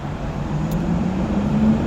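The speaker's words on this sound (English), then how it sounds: "just noise and cars making noise and different things" Steady traffic noise from passing cars fills the background, a continuous broadband roadway rumble with a low engine drone that grows slightly louder toward the end.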